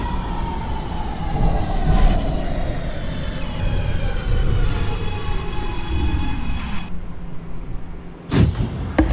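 A simulated R211A New York subway train on the A line, running express toward Brooklyn, rumbles steadily with a loud, continuous wheel-and-motor roar, falling pitch tones and a sharp burst of clatter near the end.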